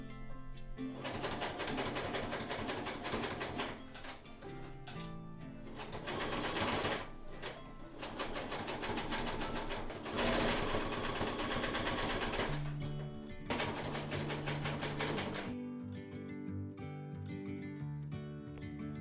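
A sewing machine stitches a blouse collar, made from bedsheet fabric, at a half-inch seam in a steady, continuous whirring run that cuts off sharply near the end, leaving quieter sound.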